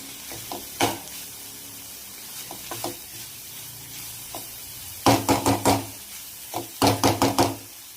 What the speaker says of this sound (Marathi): आता सुकट पण कांदा टोमॅटोमध्ये मी आणखीन 1-2 मिनिटं परतून घेणार आहे